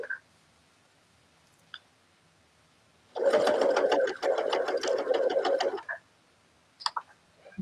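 Sewing machine stitching shoulder yokes on a tee, one short burst of quick, close stitching of about three seconds between faint clicks and handling sounds.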